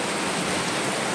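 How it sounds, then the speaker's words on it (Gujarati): Heavy rain pours down steadily during a motorbike ride on the road, a dense, even broadband roar of falling water with no breaks and no talking. "5 મિનિટ હાલ્યા ને તા વરસાદ આવી ગયો છે"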